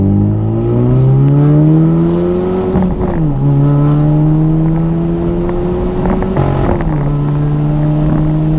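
A 2016 Chevrolet Camaro pulls hard with a steady, loud engine note rising through the revs, dropping briefly at two gear shifts before climbing again, heard from inside the car with some wind noise.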